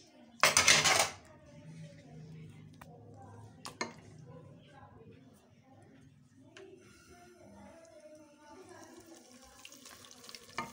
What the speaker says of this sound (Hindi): थोड़ा सा पानी डालेंगे, इसको अच्छी तरह से साफ कर लेंगे।